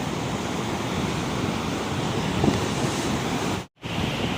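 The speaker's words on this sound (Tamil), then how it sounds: "மழை ஸ்டார்ட் ஆகிடுச்சு" Steady, broad hiss of heavy rain and surf at Besant Nagar beach, with gusty wind noise on the microphone; one brief dropout near the end.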